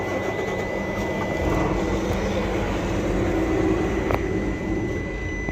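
A diesel engine of an Isuzu FVZ 280 truck with a misfiring, hard-starting fault runs steadily at slow idle, a dense continuous low rumble held close and loud throughout with no talk.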